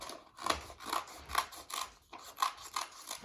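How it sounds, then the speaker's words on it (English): Several quick, crisp snips of scissors cutting paper petals sound one after another at an uneven pace, close up and fairly quiet, with short pauses between cuts. "we're going to snip at the end"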